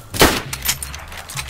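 A single sharp gunshot from the video game DayZ, fairly loud, with a short decaying tail and some faint game ambience after it.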